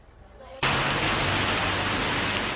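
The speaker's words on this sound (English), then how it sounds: "With all the rain pummeling California this winter" Heavy winter rain in California starts abruptly after a quiet moment, then pours as a loud, dense, steady hiss of falling drops.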